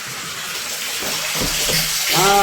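Steady rushing water runs throughout, growing slightly louder toward the end, with faint voices in the background.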